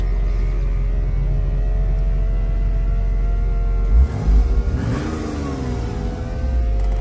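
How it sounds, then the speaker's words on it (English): A 1998 Porsche Boxster engine idles with a steady low rumble, then revs up sharply around the middle and settles back to a smooth idle. "The engine sounds nice."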